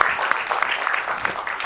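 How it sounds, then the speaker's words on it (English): A burst of applause from an audience at a school careers event, steady clapping throughout with no pauses. "Let's give Ms. Ratnan a round of applause."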